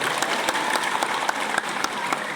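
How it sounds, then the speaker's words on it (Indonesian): An audience at a school storytelling event claps in a steady, dense burst of applause, close and fairly loud throughout. "Tepuk tangan buat kalian semua."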